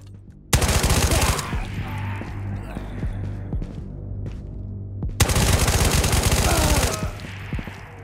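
Automatic gunfire in the VR shooter Ghosts of Tabor, two long loud bursts of rapid shots separated by a quieter stretch with a few scattered single shots and rustling.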